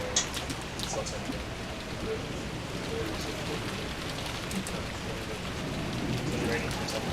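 Steady rain falling, a soft continuous patter with scattered drops, faint and even across the whole stretch.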